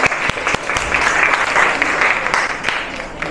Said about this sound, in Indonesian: Kita beri aplaus untuk kelompok 2 ya.